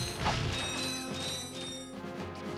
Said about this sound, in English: I just found 50 bolts just lying here on the ground.